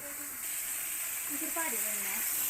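Boneless mackerel (bangude) fries in a pan with a steady sizzle that grows slightly louder, while a voice talks over it briefly.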